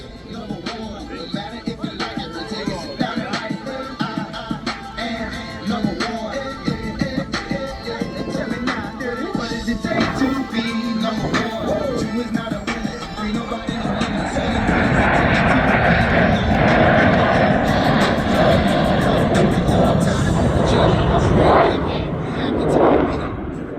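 Blue Angels jets fly the double Farvel at the Dayton airshow. A loud, steady jet roar builds and swells over the last third, with an announcer talking over it throughout.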